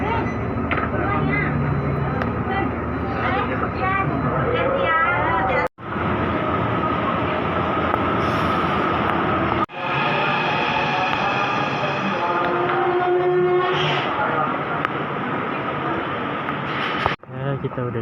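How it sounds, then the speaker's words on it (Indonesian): A Jakarta LRT light rail train rolls along with a steady mechanical rumble and hum, a few sharp clunks, and voices talking over the noise. "Kita udah di stasiun LRT. Ini kita naik LRT."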